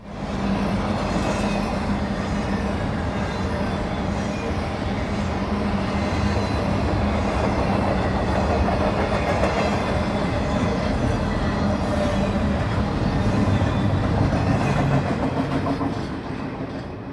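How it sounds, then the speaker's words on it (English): A long freight train rolls steadily past, its rear end heading beneath the US 422 overpass near Lebanon, with a dense, unbroken rumble and rhythmic wheel clatter throughout. "The rear of the train heads under the US 422 overpass"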